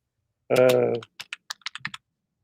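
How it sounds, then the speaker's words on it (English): Keyboard typing in short bursts of separate clicks, heard alone just after a brief voiced sound at the start. "he gets all pissed off when I try to type while we're talking"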